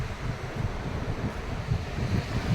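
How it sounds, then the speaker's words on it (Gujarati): Sea waves crash at Danu beach, heard as a steady low roar of surf thickly mixed with wind buffeting the microphone, continuous and fairly loud with no voices. "પાણીનો અવાજ તમને આવતો હશે. ઘૂંઘાટ પાણી મારે છે."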